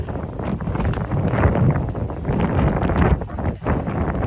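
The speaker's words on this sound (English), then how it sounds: "The wind's picked up again." Strong wind buffets the microphone outdoors at a coal port protest, a loud, continuous low rumble that surges and dips with no clear voices.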